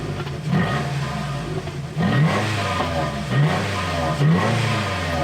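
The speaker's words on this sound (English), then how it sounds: "So this is the old exhaust and how it sounds." A car engine idles and revs repeatedly through its old, rough, throaty exhaust, with several rising pulls about a second or two apart, close and fairly loud.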